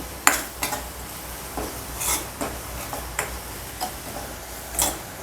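Spices with dried small shrimp, asafoetida and salt are sautéed over a low flame in a pan for a radish bhaji; sharp spatula taps and scrapes come at irregular intervals over a faint, continuous sizzle.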